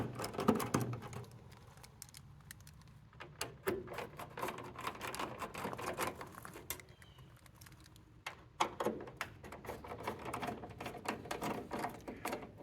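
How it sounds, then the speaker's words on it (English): Screws being removed from the headlight trim ring of a 1958 Chevrolet Viking, outdoors over gravel: scattered close, light clicks and small metallic scrapes in an irregular patter, with no talking. "Take out the 4 trim screws."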